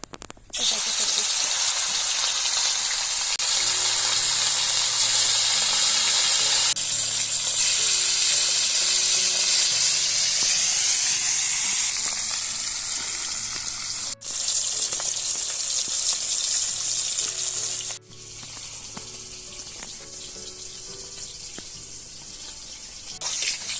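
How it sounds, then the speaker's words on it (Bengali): Tilapia fish fry in hot oil with a loud, continuous hissing sizzle that dips briefly twice, heard up close without any talking. "তেল গরম হয়ে গেছে, মাছটা ছেড়ে দেবো।"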